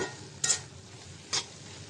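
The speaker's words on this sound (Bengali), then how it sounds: "আরেকটু নাড়াচাড়া দিয়ে নামিয়ে নেব" Fried potatoes with fish roe being stirred in a pan, heard as two brief scraping strokes of the spatula over a quiet, steady sizzle.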